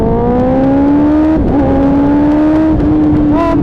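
A 1000cc motorcycle engine revs loudly and close by, a sustained roaring drone that climbs in pitch, dips briefly, and climbs again.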